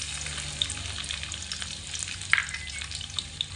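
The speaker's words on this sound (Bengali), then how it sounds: "রসুনগুলো হালকা লাল লাল করে ভেজে নেব" Six or seven small chopped garlic cloves fry in hot oil with a close, continuous sizzle, broken by a few light clinks of a spoon against the pan, no talking.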